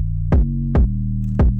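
Deep 808 bass in a UK drill beat made in FL Studio: a sustained low tone with three sharp, punchy hits sliding down in pitch, each about half a second apart, loud and alone with no voices.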